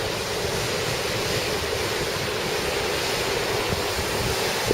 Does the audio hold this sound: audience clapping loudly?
no